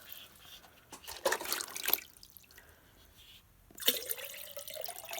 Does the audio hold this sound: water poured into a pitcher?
yes